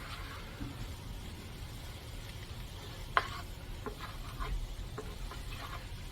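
Breakfast potatoes with wilting cilantro cook in a pan with a soft, steady sizzle, interrupted by a few scattered clicks and scrapes of stirring, one sharper tap standing out partway through.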